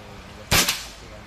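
Rifle report from a BR25 air rifle sighter shot at an outdoor shooting match: one sharp, loud crack with a brief second burst right after, standing alone against quiet background noise.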